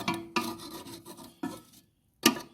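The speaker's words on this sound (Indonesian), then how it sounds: "Kita gosok pakai tatah, atau bisa juga, pakai amplas" Rust is scraped off the steel plate of an old water pump with a chisel or sandpaper: four or five harsh rasping strokes, close and fairly loud, with brief pauses between them.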